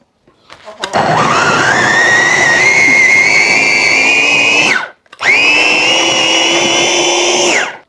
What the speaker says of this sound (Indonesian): ini aku pakai chopper ya teman-teman, biar bumbunya lebih kasar